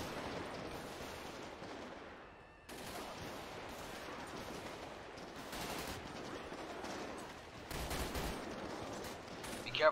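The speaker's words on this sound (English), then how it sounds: "Taking fire outside the streets right now." Sustained gunfire from a street shootout in GTA V with the LSPDFR police mod, dense overlapping bursts rolling steadily through the whole stretch with a brief dip early on and a louder surge near the end.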